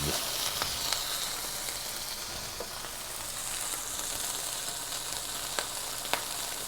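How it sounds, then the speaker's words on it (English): Wagyu steak, a NY strip or ribeye, sears in butter in a pan with a loud, steady broadband sizzle and scattered sharp pops and spits throughout. "We're just going to let this sear for just a few more seconds"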